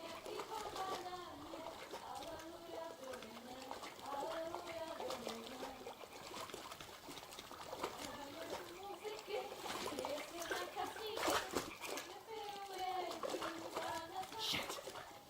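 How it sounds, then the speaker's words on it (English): Water splashing and trickling as a woman does laundry at the water's edge in Kingdom Come: Deliverance II, soft repeated sloshes under voices talking throughout. "One of them's doing laundry."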